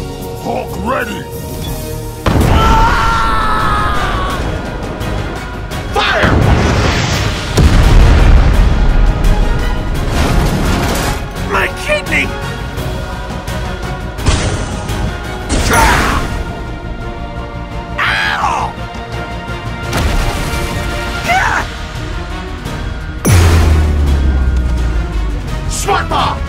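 Loud booming explosions from a meteor attack in a Hulk superhero fighting video game, several heavy blasts spread across the fight amid constant game music and effects, with an energetic voice shouting over them.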